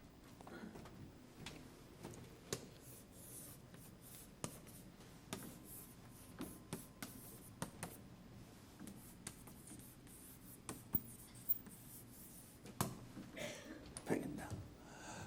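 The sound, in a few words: writing Korean characters by hand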